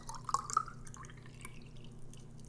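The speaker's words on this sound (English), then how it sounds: "then I add 3 ounces or so of the lemon and lime juice" Lemon and lime juice pours into a storage bottle of ginger, turmeric and beet juice shots: a brief, soft liquid trickle with light drips, faint and close, over low background hum.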